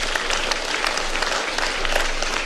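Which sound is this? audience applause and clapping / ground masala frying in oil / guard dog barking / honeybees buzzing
audience applause and clapping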